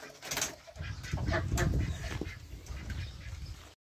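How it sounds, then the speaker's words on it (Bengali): Farm poultry at a Saudi farm, with ducks, chickens, pigeons and roosters kept together, make a brief, close burst of clucking, quacking and cooing calls that fades out after a few seconds. "হাঁস মুরগি কৈতর মোরগ"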